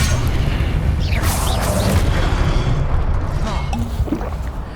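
Confringo fire spells explode in Hogwarts Legacy amid battle, a sustained loud booming rumble with crackling magical whooshes and swirling effects layered over it, no voices.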